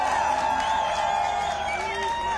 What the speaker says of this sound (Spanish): Entre aplausos y vítores fue recibido el presidente de Ucrania, Volodymyr Zelensky, en pleno centro de la capital de Lituania